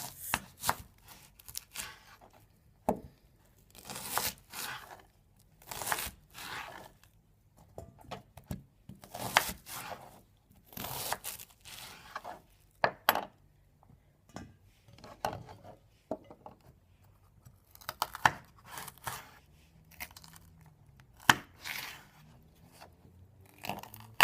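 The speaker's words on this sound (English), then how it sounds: "To make these all about the same size, I'm going to cut that one in half." A knife chops onion and green pepper into large pieces on a cutting board, sharp irregular knocks in bursts across the whole stretch, close and fairly loud with no talking.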